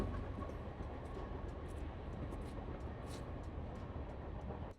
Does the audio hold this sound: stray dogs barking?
no